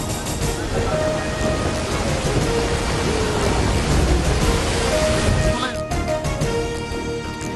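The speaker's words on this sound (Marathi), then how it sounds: "पुण्यात मुसळधार पावसाची हजेरी।" Heavy monsoon downpour in Pune: a loud, steady roar of rain with deep rumbling thunder underneath and faint tonal sounds over it, continuous for the whole stretch.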